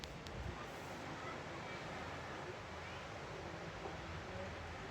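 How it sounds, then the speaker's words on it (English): Sea surf washes in a soft continuous roar heard from a beachfront hotel balcony near Koh Samui, faint and steady with a light wind-like hiss and no clear breaks between waves. "That is so mental health therapeutic, the sound of the sea."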